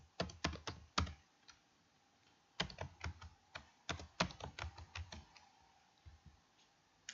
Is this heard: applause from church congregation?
no